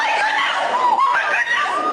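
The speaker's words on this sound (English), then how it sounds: "I'm sorry I screamed." A woman lets out a high, strained scream of shock during live September 11 coverage of a burning building. It is a sustained, wavering cry, loud and close, lasting about two seconds.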